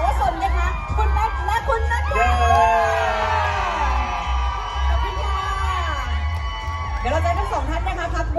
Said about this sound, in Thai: ขอเสียงปรบมือ กับนักแสดงนำของเราด้วยนะคะ